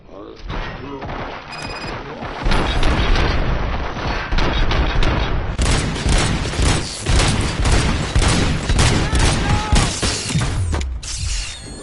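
Rapid gunfire rattles in RoboCop: Rogue City, loud sustained bursts of shots and heavy thuds packed densely across the stretch, with voices occasionally mixed in.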